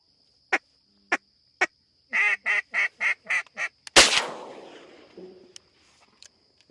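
Green-winged teal ducks on an opening-day teal hunt in Nebraska call in a few separate quacks, then a quick run of about six rhythmic calls, followed by a loud sharp blast that rings out and fades.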